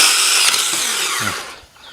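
Cordless handheld chainsaw, a copy of a Stihl with a worn chain, cuts through dry hard ash about 8 cm thick, giving a loud close buzzing whine that drops away near the end.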